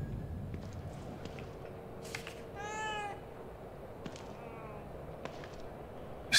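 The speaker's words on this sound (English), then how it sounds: "I don't ever remember owning a cat." A cat meows once in The Evil Within 2, a drawn-out, wavering call in the middle of quiet, dim ambient game noise with a few soft clicks around it.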